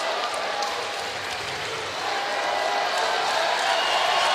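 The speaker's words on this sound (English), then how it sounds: "The crowd at the arena very appreciative of the effort tonight." An arena crowd at a college basketball game, Valparaiso against Oakland, gives a steady roar of applause and cheering. The broad, continuous wash of noise holds at a constant level and swells slightly toward the end.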